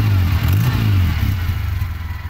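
A motorcycle engine runs after a faulty ampere gauge connection is fixed, giving a loud, steady, close-up idle with an even mechanical chug and clatter and no voices.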